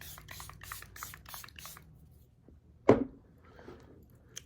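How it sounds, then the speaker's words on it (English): A single short burst of setting spray misted onto a face, brief and close, after a few soft rustling handling sounds, with quiet room tone around it. "now I'm just going to add some setting spray"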